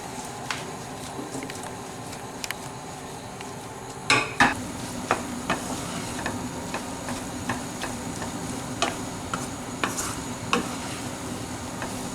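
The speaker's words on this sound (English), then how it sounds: "And mix it well. Make sure you break all the rice which is stick together." Seafood paella rice is stirred in a hot pan, the utensil scraping and knocking against the metal in repeated strokes over a steady low sizzle, including one heavier clatter partway through.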